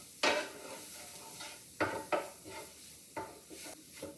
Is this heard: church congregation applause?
no